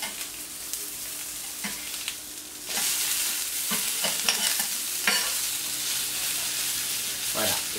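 Shiitake mushrooms sizzle on a hot plancha, a steady frying hiss broken by sharp scraping clicks as they are turned, louder after the first few seconds, with faint background noise.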